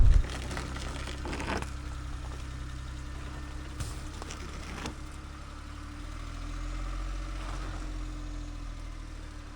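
A 4x4 mini van engine running off-road, a steady mid-low drone at moderate level with a few brief knocks and rattles over rough ground, no talking.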